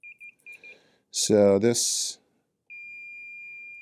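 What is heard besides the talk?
multimeter continuity test beep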